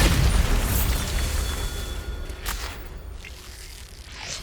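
A Bombarda explosion spell cast in the video game Hogwarts Legacy, a deep booming blast with a bright crackling burst near the start, followed by a second sharp pop and a rumbling tail that fades out.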